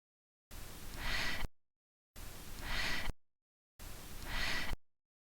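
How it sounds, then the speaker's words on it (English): Three identical bursts of hiss, each about one second long and evenly spaced by silence, each holding a faint breathing gasp buried in a noisy recording. "I hope you can hear the gasp."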